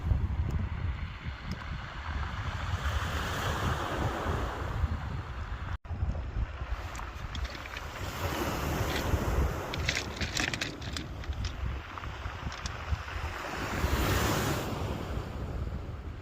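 Surf and gusting wind on a stormy North West Cumbrian beach, a steady roar of breaking waves with buffeting wind noise across the microphone and no voices.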